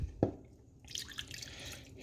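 Water poured into a frying pan holding a little oil, for a cube steak dish with tomato sauce; a sharp splash opens it, followed by a soft, steady trickle and sizzle-like hiss near the microphone.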